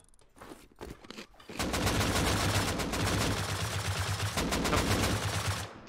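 Rapid automatic gunfire in the survival game Rust during a raid defence, a dense sustained burst of shots after a few scattered single reports, loud and continuous with no talk.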